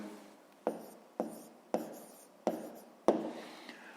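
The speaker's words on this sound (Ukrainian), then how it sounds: "Ну, а тепер записуємо відповідь." A pen scratches out the answer to a fifth-grade math exercise in a quiet room: five short, evenly spaced scratchy strokes, each starting with a sharp onset and trailing off, with no talk.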